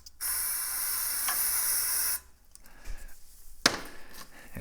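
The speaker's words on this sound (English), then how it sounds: "Just for fun, I'll spray a little carb cleaner on it." Carb cleaner hisses from an aerosol can onto a crusty old gas tank in a steady loud two-second spray, followed by quieter scraping and handling noises and a sharp clack near the end.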